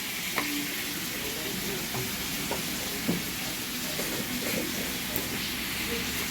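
Onion and salt are stirred in a hot frying pan for a pointed gourd and prawn dish. A constant close sizzle carries irregular spatula scrapes and clicks, with no talking.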